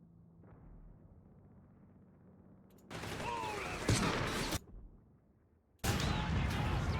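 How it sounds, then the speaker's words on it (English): A Boys anti-tank sniper rifle in a video game mod fires in heavy, loud bursts with deep low-end weight, two long blasts separated by quieter stretches. "The Boy's anti-tank sniper rifle has to stand out from other rifles, so we decided to add some weight with some low frequencies"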